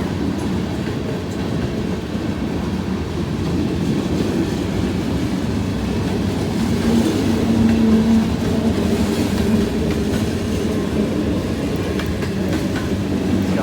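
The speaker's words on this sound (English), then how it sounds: "here's me in the rain, waiting for a train to get out of my way" A train rumbles steadily past nearby in the rain, its low continuous roar and rattling wheels filling the whole stretch, with rain-like hiss over the top.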